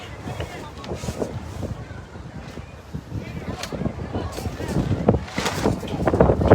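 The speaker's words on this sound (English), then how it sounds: "This wind is really picking up." Strong wind gusts buffet the microphone at an outdoor youth football game, 12U, a rough roaring rumble that builds toward the end, with people faintly talking beneath it.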